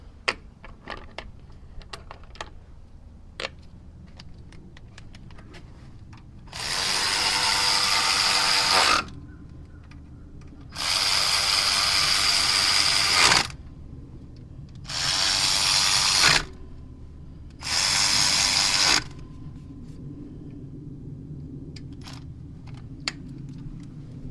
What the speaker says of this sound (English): So take your other 10mm here. We're going to go ahead and tighten all this up.